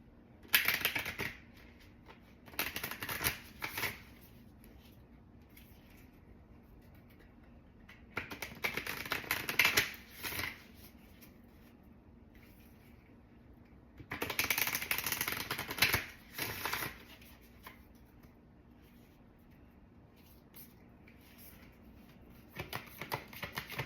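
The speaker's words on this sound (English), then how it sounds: "let's pull an oracle card for you." Oracle cards are shuffled by hand for a tarot reading, in three or four bursts of brisk, close riffling and clicking separated by quiet pauses.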